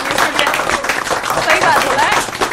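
Studio audience on a quiz-show spoof set, steady close applause with many overlapping claps, continuous and fairly loud throughout.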